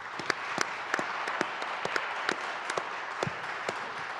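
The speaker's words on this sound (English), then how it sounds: "I'd like to congratulate all of the e-poster winners with a round of applause." Applause from a conference audience honouring e-poster winners: a steady wash of many hands clapping with sharp individual claps standing out, moderately distant, lasting several seconds.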